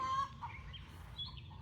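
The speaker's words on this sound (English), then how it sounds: "you can listen to your chicken making lots of loud noises" Backyard chickens making loud, repeated clucking calls, fairly close, with intermittent squawks over a steady low hum, no talking.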